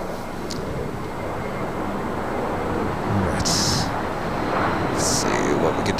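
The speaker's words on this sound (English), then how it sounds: "This is United Airlines Flight 2085 coming from Chicago O'Hare" A United Airlines 737-900ER from Chicago O'Hare arrives at LAX, its jet engines giving a broad, steady rumbling roar that swells slightly midway, with brief higher-pitched whines on top and people talking nearby.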